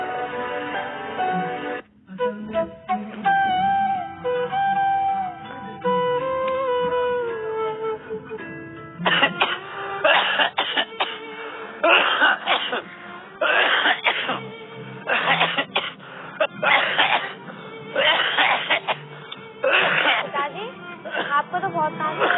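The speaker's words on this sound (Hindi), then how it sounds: "आपको तो बहुत खांसी हो रही है" Someone coughs repeatedly in harsh bursts, several spasms in a row after a stretch of voices, close and fairly loud.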